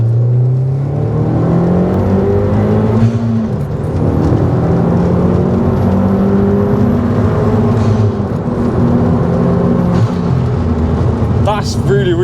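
A remapped Audi TT 1.8T pulls hard along a road, its engine note rising through the gears in repeated climbs with brief dips at each shift, heard from inside under steady road and wind noise.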